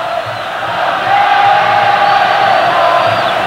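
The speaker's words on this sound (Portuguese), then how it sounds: "A torcida do São Paulo dá uma força danada ao time." Large crowd of São Paulo supporters roars and chants continuously in a football stadium during a 1993 Brazilian championship semifinal against Palmeiras, a dense, loud wall of sound.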